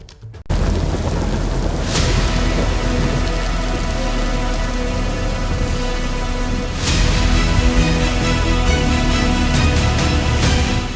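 Heavy, steady rain pouring down during flooding in Delhi, a dense continuous roar with a couple of sharp cracks, loud and close throughout.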